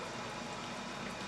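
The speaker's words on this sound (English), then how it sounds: "I can hear my water going." A pot of water coming to a boil for pasta on a kitchen stove, a steady low bubbling and hiss that stays even and fairly quiet throughout, with no voices over it.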